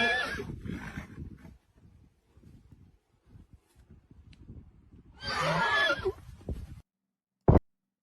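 Horses neigh and whinny in a game setting, a loud burst early and another loud one later, with a soft clip-clop of hooves between them and a short sharp sound at the end.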